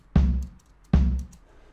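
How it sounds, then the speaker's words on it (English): Two acoustic kick bass drum samples from an FL Studio track, each a deep punchy thump with a slow decaying boom, played one after the other, alone. "I found these two bass drums."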